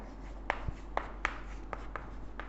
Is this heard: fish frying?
no